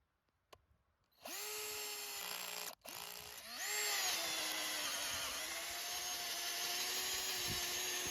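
A BAUER 20V Hypermax cordless half-inch drill bores an auger bit into a wooden stump, whirring up loudly after a click, pausing briefly, then grinding on at a strained, steady pitch close by.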